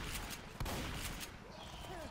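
Shotgun blasts in Left 4 Dead, a sharp burst near the start followed by continuous game noise and shouting, with a voice talking over it.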